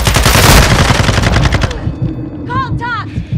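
Rapid machine-gun fire in Call of Duty: Modern Warfare 2, a loud, fast burst of shots that cuts off partway, followed by a few chirping electronic tones.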